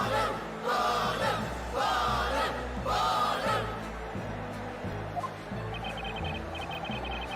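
An excited courtroom crowd in the Professor Layton vs Phoenix Wright video game clamors in three loud surges of shouting over game music, then quiets as the music carries on alone.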